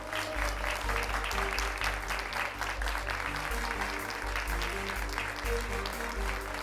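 Sustained applause from a studio audience at the results announcement of a student debate programme, steady clapping filling the room throughout.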